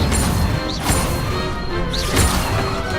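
An Incendio fire spell cast in Hogwarts Legacy bursts out as loud whooshing, crashing blasts, two or three close impacts over a dense, continuous game soundscape.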